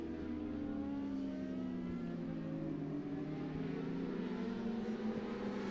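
Superbike motorcycles race past on a road circuit in a Masters Superbike Championship round, engines droning at high revs with falling pitch as they pass, distant and steady with no talk.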